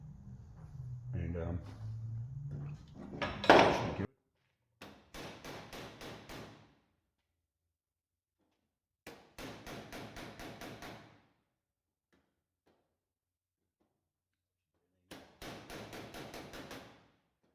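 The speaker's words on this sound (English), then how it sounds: "I might do a little hammering on here, just got a little bit of a bow on it" Hammer blows on a 1965 Chevy body part flatten out a bow, coming in three separate bursts of quick rhythmic metallic taps. A short stretch of speech and knocking comes first, with silence between the bursts.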